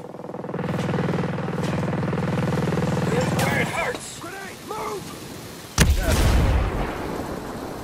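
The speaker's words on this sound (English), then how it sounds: "There's a rocket coming, Ghost Lead." An incoming rocket exploding in Ghost Recon Breakpoint: a steady engine drone, then a sudden loud close boom with a rumbling tail, as a voice speaks over the action.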